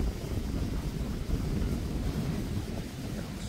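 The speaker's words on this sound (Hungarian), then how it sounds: "Ez a szél is van." Wind buffeting the microphone outdoors while riding a horse, a loud continuous low rumble with gusty fluctuations lasting the whole stretch.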